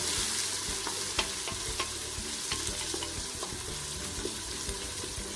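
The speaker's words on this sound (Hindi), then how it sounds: "इसमें डालेंगे प्याज, थोड़ा सा इनको भी फ्राई कर लेंगे" Onions sizzling in hot oil with cumin seeds for aloo palak, a steady close frying hiss with occasional stirring clinks and scrapes throughout, no talking.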